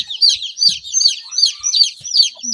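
Freshly hatched chicks huddled with a hen on a farm, shivering in the cold, cheep in regular high bursts about twice a second, close and clear, with a few faint low clucks underneath.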